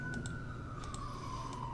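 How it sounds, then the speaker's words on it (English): A siren wails in the background and slowly falls in pitch as it passes, faint and distant beneath steady room noise and a few soft clicks. "you could hear the sirens and stuff"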